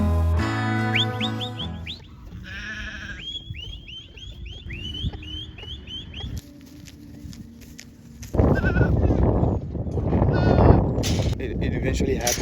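Goats on a farm bleat repeatedly in quick, wavering calls up close, with birds chirping nearby, before a loud rushing, rustling noise takes over in the second half; a person talks briefly.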